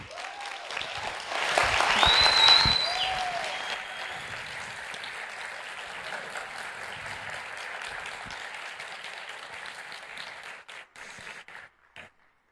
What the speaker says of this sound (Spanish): demos la bienvenida con un fuerte aplauso a nuestro invitado